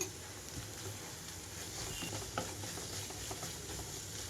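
Ginger garlic paste frying with onions in a pan on high flame, a soft, close sizzle with stirring scrapes and a brief clink, fairly quiet.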